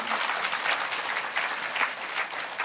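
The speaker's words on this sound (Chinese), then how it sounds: "拍手把荣耀归给主，好吗？" An audience at a church sermon claps together in dense, sustained applause that fills the room evenly for a few seconds without speech.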